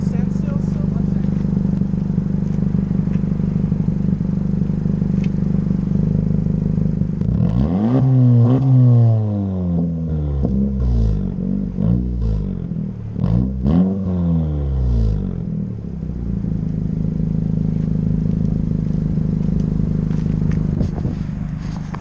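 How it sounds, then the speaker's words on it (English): A 2017 Honda Civic exhaust revs while parked outdoors in the wind. A steady idle drone leads into several quick rising and falling revs through the middle, then settles back to idle, with wind noise throughout. "I'm actually gonna let you guys hear the exhaust again with a standstill"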